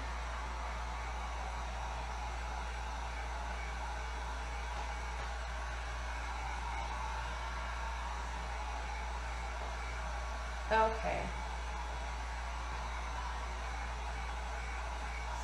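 A hair dryer blows steadily and close for the whole stretch, drying a painted metal tree craft piece, its even rushing hiss broken only by a short knock near the end.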